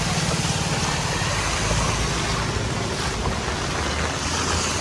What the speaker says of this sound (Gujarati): સુરતની ગલીઓમાં તો ભારે વરસાદ છે